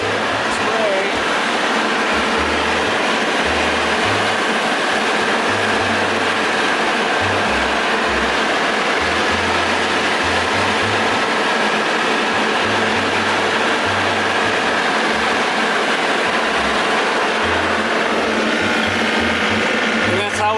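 A vineyard sprayer engine runs continuously with a loud, steady mechanical drone and rattling clatter, filling the whole stretch without pause.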